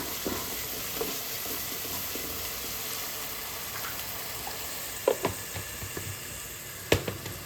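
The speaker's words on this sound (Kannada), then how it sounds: "ಇದನ್ನು ಹಾಕಿ ಚೆನ್ನಾಗಿ ಫ್ರೈ ಮಾಡ್ಕೋತಾ ಇದ್ದೀನಿ" Coriander, mint and ginger-garlic paste with salt frying in a pan, giving a steady soft sizzle with a few brief scraping clicks near the end, no voices.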